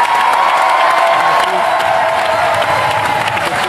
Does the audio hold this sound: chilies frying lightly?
no